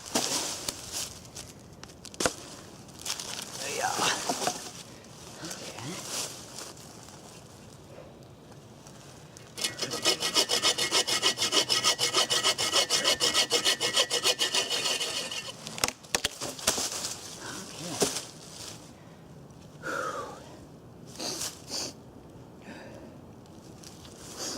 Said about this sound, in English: Start sawing it up into smaller pieces